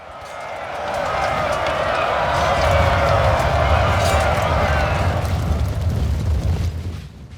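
Napoleonic-era game battle at Salamanca, French grenadiers charging into Russian militia: a dense, loud wash of crowd roar, gunfire and battle noise swells after the first second and holds steady, with a voice talking over it.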